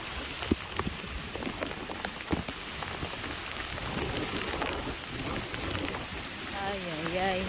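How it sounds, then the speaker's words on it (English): Heavy typhoon rain pours steadily onto surfaces in a dense hiss with scattered louder drops, and a voice briefly speaks near the end. "heavy rain."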